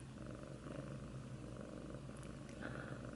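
Soft, steady rumbling purr of a cat, close and continuous, with a gentle rhythmic pulse.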